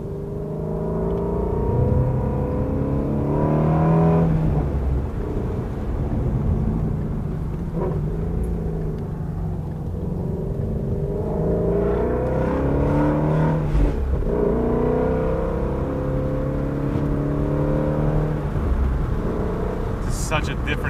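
A Ford Mustang's engine revs up and falls back repeatedly while driving, with rev-matched downshifts. The engine rises and settles under a person talking almost constantly.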